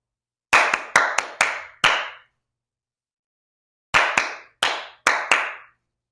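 Sharp hand claps in a rhythmic pattern during a dance class, a quick group of five, a pause, then another group of five, crisp and close.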